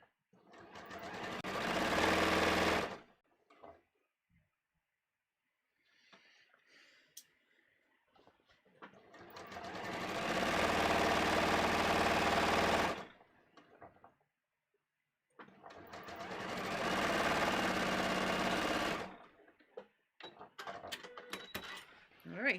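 A sewing machine stitches a pant leg in three long bursts of fast whirring, loud and close, with short quiet pauses and faint handling sounds between the runs.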